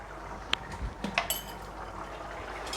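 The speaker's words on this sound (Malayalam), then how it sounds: "ഇത് നന്നായി ഒന്ന് ഇളക്കി കൊടുക്കാം കേട്ടോ." Chana curry being stirred in a cooking pot, giving a few soft, close clinks and scrapes of a spoon against the pot, scattered and quiet with no talking.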